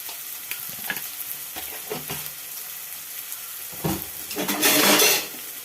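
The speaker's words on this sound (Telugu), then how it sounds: "బాగా ఫ్రై చేసుకుందాం." Sliced onions and green chilies with turmeric and salt fry in oil, a continuous sizzle with several close stirring scrapes, swelling into a louder hiss near the end.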